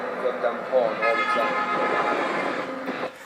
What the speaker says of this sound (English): So that sound you hear there, that noise of the horn